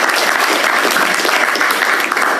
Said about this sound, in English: You got to give both of them also a round of applause for what you guys have been able to accomplish.